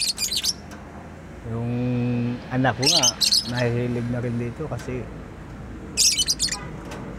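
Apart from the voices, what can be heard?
pet bird chirping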